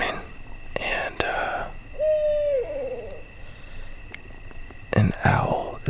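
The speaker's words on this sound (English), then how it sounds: "an owl is like right nearby the tent. And it's so loud." An owl hoots close to a tent at 2 a.m., a single clear, loud hoot midway, surrounded by quiet night ambience with crickets and faint whispered talk before and after.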